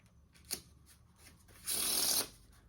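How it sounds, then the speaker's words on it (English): A short, crisp riffle of cards being shuffled, preceded by a soft tap and light handling noises, close and quiet. "shuffle the deck"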